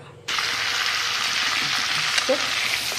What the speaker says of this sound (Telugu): దీన్ని చక్కగా వేయించుకుందాం